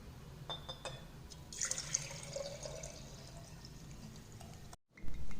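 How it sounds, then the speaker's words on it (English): Water poured into a glass of lime juice mixed with salt and ground pepper, a close splashing trickle that fills and burbles for several seconds before stopping briefly, heard alone without talk. "and then add water to the solution."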